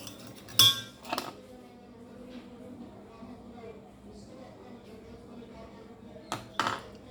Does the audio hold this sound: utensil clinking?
yes